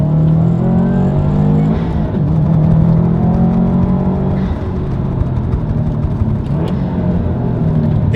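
A 2019 Subaru STI engine revving during rev-matched downshifts, loud and close from inside the car, with rising and falling harmonic engine tones, a pronounced blip near the middle and steady rumble throughout, no talk.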